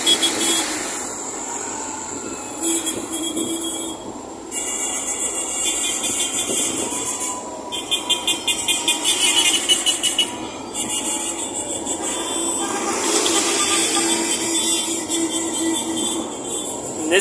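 A decorated car rolls past during a Christmas convoy in Vila Matilde, São Paulo, its engine hum rising and fading at close range amid steady street bustle, with no talking.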